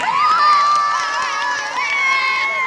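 At a police training group's cultural program and ceremony, a crowd roars with loud, sustained cheering, shouts and whistles overlapping continuously throughout.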